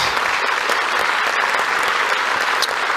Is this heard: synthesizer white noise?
no